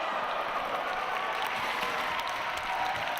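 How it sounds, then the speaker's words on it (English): Wrestling crowd in Hull cheering and applauding: a steady, dense roar of clapping and voices that fills the whole stretch without a break. "This crowd coming alive in Hull tonight"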